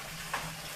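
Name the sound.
lobster and green onions being stir-fried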